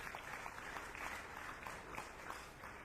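A crowd giving another round of applause at a national teacher-of-the-year award ceremony, a faint but continuous wash of clapping heard from a distance, with no talk on top.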